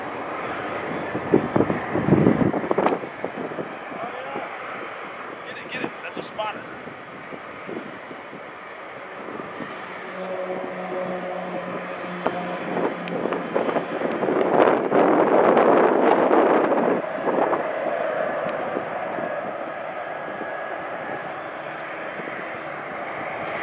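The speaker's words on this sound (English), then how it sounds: "Here comes a CDF plane taking off." CDF firefighting tanker plane flying near an airfield, a propeller engine drone building to a loud pass mid-clip, with heavy wind buffeting on the microphone and occasional handling bumps.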